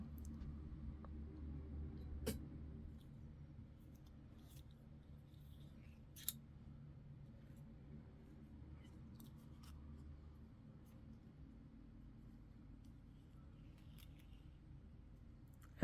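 Metal scissors clink and tap a few times in brief, sharp clicks while earrings are beaded, scattered over a faint, steady room hum with long quiet stretches between.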